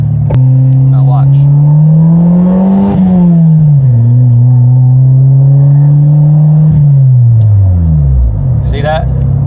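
A turbocharged D16 Honda Civic engine drones loudly and steadily under acceleration, its pitch climbing, dipping and then falling away near the end as the boost fades. A voice may be faintly present under the engine.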